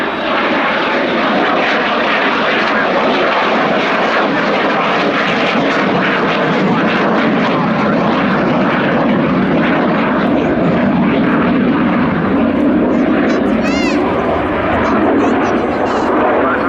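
Propeller or jet display aircraft making a slow, gear-down pass along the runway axis at an international air day, a steady loud engine roar sustained throughout with a crowd commentator talking over it.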